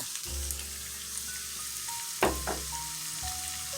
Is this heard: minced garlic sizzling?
yes